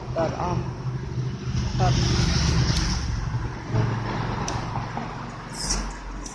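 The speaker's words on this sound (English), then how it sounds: "I'm going to just film these last cars here" Cars pass on a road as a low, steady traffic rumble that swells and fades with each vehicle, fairly close and moderately loud, with no heavy trucks.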